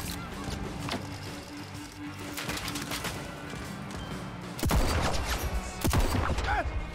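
Gunfire in Red Dead Redemption, scattered sharp cracks with quieter stretches between, then a louder burst of several shots near the end among other game noises.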